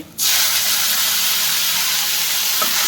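Tomatoes dropped into a hot pan for restaurant-style paneer masala set off a sudden loud, steady sizzle and hiss that starts abruptly and carries on without pause, close up and alone.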